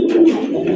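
A red pigeon coos in a short, close, throaty burst, one rolling note swelling and fading with no talk over it.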